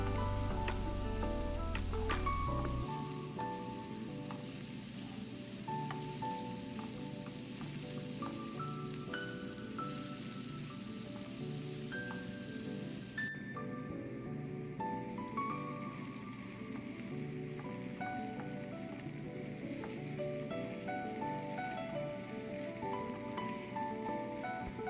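Chopped onions with salt fry in a pan with a faint, steady rain-like sizzle that runs for a long stretch alongside soft background music, after a low rumble at the start.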